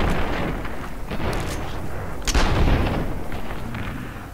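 A heavy weapon in the Fallout 3 video game fires loud, booming shots over a dense, rumbling background, with a strong blast near the middle and no talking.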